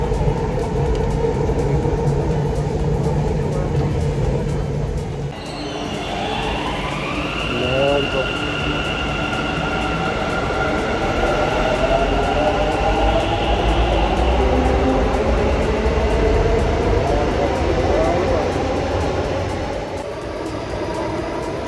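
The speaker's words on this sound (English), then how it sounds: "Banglore subway station, crowded." A train pulls through a crowded, echoing underground metro station in Bangalore, with a rising electric whine and rumble over steady crowd murmur and announcements.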